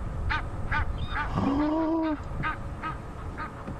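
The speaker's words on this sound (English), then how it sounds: "listen to the geese" Egyptian geese honk repeatedly in a rhythmic series of calls, with one drawn-out, rising honk in the middle, set against light outdoor background noise on an African safari drive.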